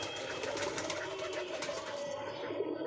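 Pigeons coo softly at a nest site, faint, low, repeated calls under a steady background hiss.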